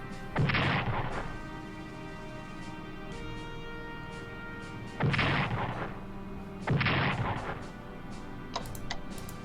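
Artillery bombing explosions in the Strategic Command 1939 Storm over Europe strategy game: three heavy booming blasts, one near the start and two close together later, over a steady droning background.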